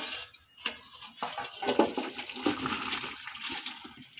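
Water draining from boiled cauliflower through a strainer in a home kitchen, a soft splashing gush with faint clinks of the pot, fairly quiet and steady.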